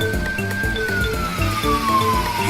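A cartoon ambulance siren sounds as a single sustained tone slowly gliding downward in pitch, loud and steady over a pulsing rhythmic backing beat.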